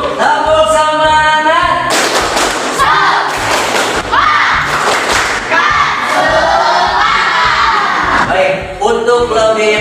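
Schoolchildren in a classroom shout the tepuk semangat chant together, with loud rhythmic bursts of clapping and thumps between energetic group vocal calls, close and lively.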